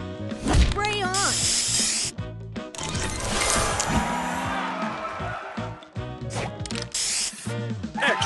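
Spray booster effect from the mobile puzzle game Color Crystals: a loud hissing spray burst layered with bright sparkling chimes and rising tones over busy game music.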